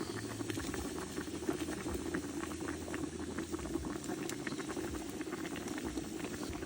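Pilaf of meat and rice stewing in a cauldron over a grill, giving a steady, close bubbling and popping simmer that carries on throughout with no talk.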